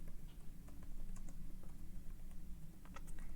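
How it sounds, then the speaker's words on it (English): Rapid clicking keystrokes on a computer keyboard, close and fairly quiet, in uneven bursts with brief pauses. "do a quick typing here"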